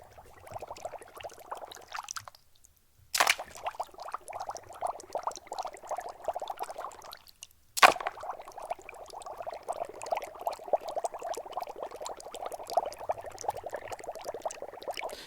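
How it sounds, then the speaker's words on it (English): Water bubbles continuously in a quiet room, a soft steady gurgle interrupted twice by brief gaps and sharp clicks, with faint background hiss. "So I just hear mostly the bubbles."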